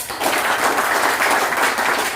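Applause from an audience at a school gathering marking SMB's independence day, dense and steady for about two seconds with no voices on top.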